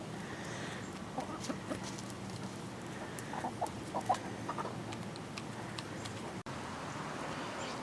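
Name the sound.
chickens clucking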